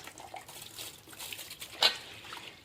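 Wheat grains are washed in water, giving quiet sloshing and trickling swishes up close with one brief sharper splash, faint overall.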